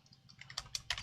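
Quick keystrokes tap on a computer keyboard, a short burst of close, crisp clicks with a few sharper strikes toward the end, with no voices.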